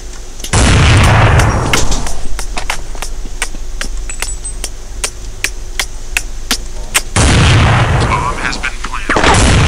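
Counter-Strike 1.6 gunfire rings out as a regular string of sharp, evenly spaced shots in a steady rhythm, flanked by heavier booming bursts at the start and end, with no voices over it.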